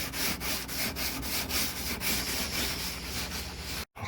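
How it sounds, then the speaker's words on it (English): Hand sanding clear coat off a carbon fiber car hood, rhythmic back-and-forth rasping strokes at a steady pace, close and continuous, ending in a short pause. "I'm about a third or halfway done getting this clear coat off."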